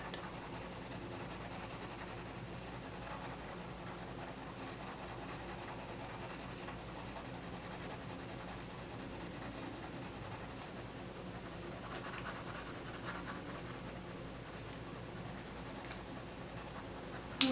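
Steady, soft scratchy rubbing of Pablo colored pencil strokes shading over alcohol marker on paper, continuous and close, with no talking.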